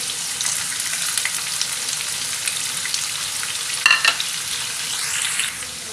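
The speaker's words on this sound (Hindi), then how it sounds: "इसको भी भिंडी के साथ फ्राई कर लेते हैं।" Sliced onion frying together with okra in hot oil for keema bhindi, a dense continuous sizzle close up with brief stirring clatters and a short metallic clink near the end.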